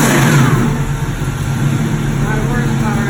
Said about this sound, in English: Okay, we're gonna fire her up.